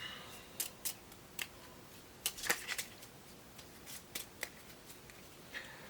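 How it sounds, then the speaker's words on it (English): Cards from the Mythos deck of the Cthulhu: Death May Die board game are shuffled: quiet, sharp, irregular riffling snaps and taps, close and faint, with no talk over them. "Now we take these cards and we shuffle them into the Mythos deck"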